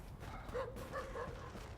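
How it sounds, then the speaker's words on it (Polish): A dog in the video game The Division barks a few short, faint yelps over a low, steady game background. "Czyli pies mi obszczekał."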